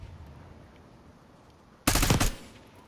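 A sentry turret firing in Call of Duty Black Ops 6: after a stretch of quiet background, a loud, close burst of rapid automatic fire lasts about half a second and then cuts off.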